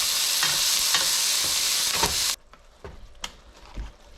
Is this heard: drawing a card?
no